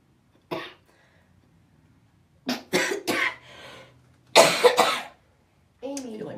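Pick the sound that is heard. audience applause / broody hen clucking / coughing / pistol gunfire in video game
coughing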